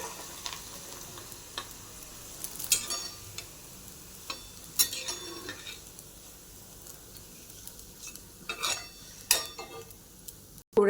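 Crumbled kurdya pieces fry in hot oil with a steady, quiet sizzle, broken by sharp clinks and scrapes of a utensil stirring the pan at irregular intervals.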